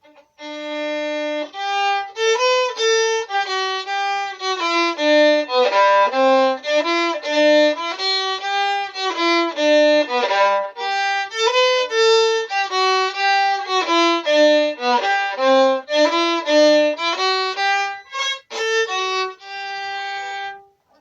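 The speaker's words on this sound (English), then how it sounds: "that was a jig, and that is the sound of a violin" A solo violin plays a lively jig, quick bowed notes tumbling in a steady bouncing rhythm, clear and close.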